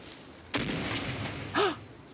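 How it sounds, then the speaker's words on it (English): A cannon fired out over a river gives a single broadband boom, moderately loud but somewhat distant. A short, brighter burst follows about a second later. "Shot a cannon over the water, make him come up to the top."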